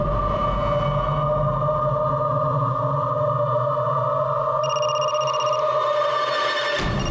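A phone rings during a Hindi crime drama scene, giving a steady electronic ringtone that holds continuously and fairly loud for about seven seconds, then cuts off near the end. No one speaks over it.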